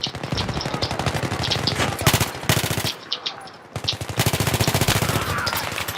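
A Famas assault rifle in Call of Duty: Black Ops fires loud, close bursts of rapid automatic shots, broken by a brief pause before firing resumes.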